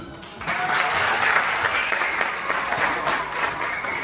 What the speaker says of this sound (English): And Dr. Director, another round of applause,